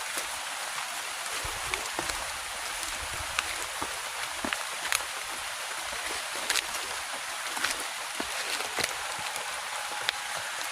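Steady rain falls outdoors during a trip to gather red manjadi (red bead tree) seeds, a dense constant hiss with scattered louder drop impacts throughout.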